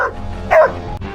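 A dog gives a single short bark, moderately loud and close, within a comedic Subway Surfers–themed skit.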